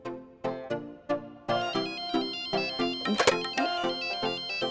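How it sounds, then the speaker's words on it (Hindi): A melodic phone ringtone for an incoming call plays alone, a run of plucked, chiming tones repeating in a steady rhythm, moderately loud and close, with a brief burst of clatter midway. "महेश डोंगरे का फोन आ रहा है।"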